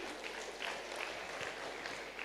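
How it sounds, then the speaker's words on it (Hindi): Faint, distant applause from an audience welcoming a speaker at a medical wing event in Mt Abu, a soft continuous patter of clapping with no voices. "दीदी का बहुत ज़ोरदार तालियों से हम सभी स्वागत करेंगे।"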